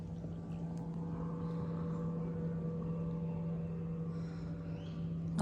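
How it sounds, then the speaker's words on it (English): Motorboat passing on a lake, a steady low engine drone with a humming tone, moderately distant and faint, heard alone on a quiet shoreline with no talk. "Sounds like a boat's coming."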